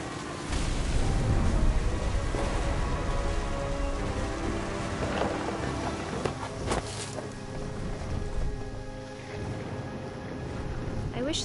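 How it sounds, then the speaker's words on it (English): A thunderstorm in What Remains of Edith Finch: steady rain falls on surfaces while thunder rumbles, continuous and moderately loud beneath a narrating voice. "The thunder sounded much too close and full of angry power."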